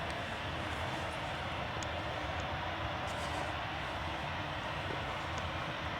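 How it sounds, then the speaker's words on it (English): A Boeing 737 at Manchester Airport gives a steady, loud broadband engine roar that holds evenly throughout, with no voices. "it's another Boeing 737. Going to Cairo."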